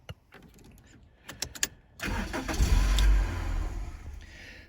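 A 2001 Toyota Corolla's ignition is turned and the starter cranks in a loud, rough burst close by without the engine catching, preceded by soft clicks and key rattles.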